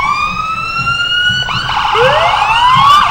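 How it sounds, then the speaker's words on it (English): Fire truck sirens wail loudly at a homecoming parade, several overlapping tones gliding up and down close by over a low rumble of street noise. "I hear some sirens coming up there."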